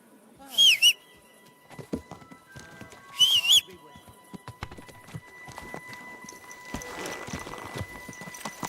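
A horse's hooves clip-clop in Kingdom Come Deliverance 2, steady hoofbeats under bursts of birdsong and nearby talking.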